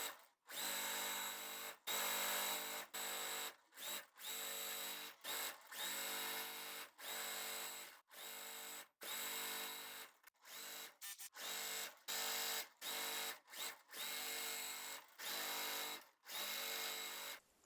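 Electric sewing machine stitching quilt block pieces together, running in a long series of loud sustained bursts separated by short pauses, close up, with no talking.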